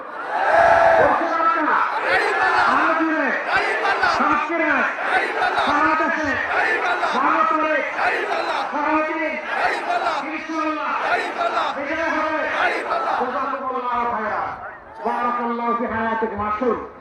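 A crowd at a Jamaat-e-Islami rally chants slogans in unison, loud and close, with rhythmic repeated shouts carrying on steadily throughout.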